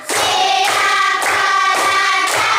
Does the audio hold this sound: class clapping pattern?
yes